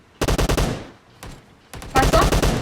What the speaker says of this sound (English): He's shooting me. He's shooting me.